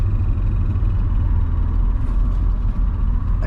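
BMW E34 535i with its M30 straight-six, heard from inside while driving, a steady low rumble of engine and road noise, close and constant with no talk.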